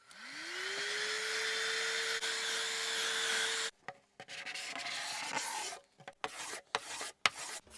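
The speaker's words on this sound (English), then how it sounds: "let's start with taking off the finish. I can use some heat and a scraper." Heat and a scraper take the lacquer finish off a Höfner 489 acoustic guitar with a flamed maple back. A heat gun's whine and rising tone run for several seconds, then give way to irregular rasping scrape strokes with short pauses between them.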